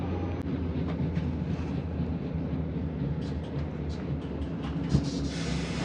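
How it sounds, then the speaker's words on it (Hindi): Idling train standing at a Swiss station near the Rhine Falls, a steady low rumble and hum running continuously and fairly close, with faint clanks and a small knock near the end, no voices. "ये थी ट्रेन हमारी जिससे हम उतरे हैं।"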